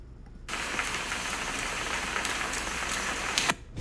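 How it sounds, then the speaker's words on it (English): AI-generated rain drumming on a roof, a dense steady hiss of many drops that starts abruptly and holds evenly at a moderate level, no voices. "Sound of rain hitting the roof."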